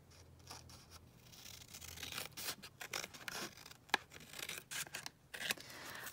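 Scissors snip through paper while a junk journal page is cut down, giving a quick run of close, crisp cuts and rustles, quiet and with no talking.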